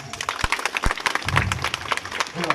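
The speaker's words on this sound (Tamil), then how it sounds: "இங்கே இருக்க ஒரு தடவை நீங்கள் எல்லாருமே ஒரு தடவை கை தட்டுங்களேன்" An audience claps together at a gathering, a dense burst of many hands clapping fast and close, some sharper single claps standing out.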